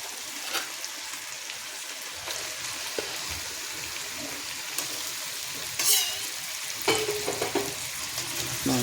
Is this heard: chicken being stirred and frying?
yes